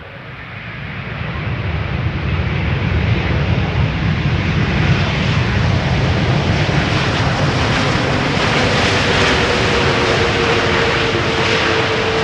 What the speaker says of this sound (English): Delta Airlines 142 A330 Neo arriving from Seattle, Washington, 8 hours and 52 minutes on their way.